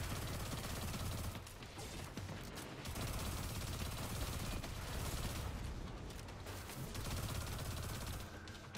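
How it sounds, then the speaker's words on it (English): Sustained automatic gunfire from a Destiny 2 fight against Cabal enemies, dense rapid bursts with brief gaps, loud and continuous throughout. "I'm just shooting this cunt still"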